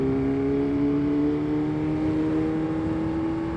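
A 1000 cc motorcycle accelerates steadily, its engine drone close and continuous with a rising whir, heard alone without talk.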